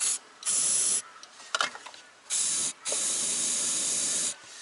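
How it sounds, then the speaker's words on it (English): Aerostar starting fluid hisses from an aerosol can into the engine of a car that won't start, in several sharp, steady bursts with brief pauses and a little clatter between them, close up. "It's flammable, so you don't want too much of it sprayed around the place."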